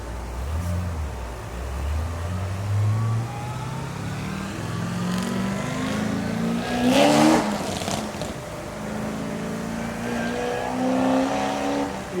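A fast car revs hard at a street car show at Bristol, engine climbing through repeated throttle bursts with a louder peak midway, heard alone without talk.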